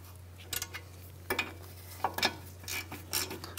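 A ratchet with a 17 mm socket snugs the caliper bracket bolts on a 2007-2013 Mitsubishi Outlander, giving several short, faint clicking bursts separated by pauses.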